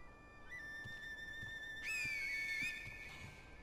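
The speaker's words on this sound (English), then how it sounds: "And this finger whistle really is useful." A single piercing finger whistle from Sekiro: Shadows Die Twice rings out for just under a second, shrill and bending slightly in pitch, above a low ambient hum and faint background tones.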